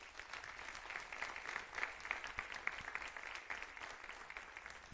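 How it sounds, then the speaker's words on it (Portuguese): A church congregation clapping during a celebration service, a fairly distant, muffled patter of applause that stays steady and moderate, with a sharp knock at the very end. "Você pode aplaudir ao Senhor?"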